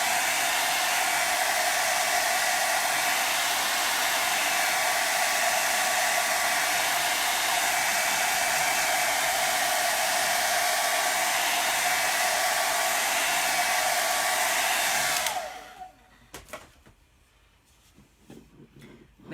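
Hair dryer drying a taped paper cutout, blowing as a steady, loud, close whoosh for about fifteen seconds before it switches off, leaving faint handling noises.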